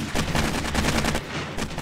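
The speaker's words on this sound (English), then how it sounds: "At least I can run backwards and shoot." Rapid automatic gunfire in the zombie survival game 7 Days to Die, sustained loud bursts from a weapon fired while the player backpedals.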